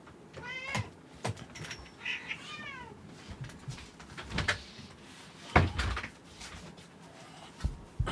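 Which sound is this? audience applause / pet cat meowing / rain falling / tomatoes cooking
pet cat meowing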